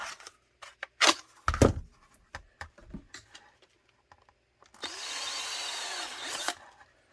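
A power drill bores into material after a few scattered knocks and handling clatter, then runs as one steady whirring burst of about two seconds before stopping.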